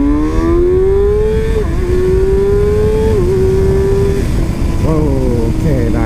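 A 2019 Ninja ZX-6R motorcycle on a night ride revs hard through a rising engine whine that climbs toward 90 mph, dips briefly at each shift, then climbs again with steady, loud wind roar under it.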